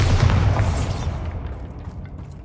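A Bombarda blasting spell goes off in Hogwarts Legacy: one loud, deep explosive boom at the start that rumbles and slowly fades away, with no talking.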